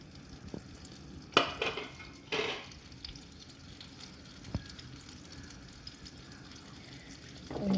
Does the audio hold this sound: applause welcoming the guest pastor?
no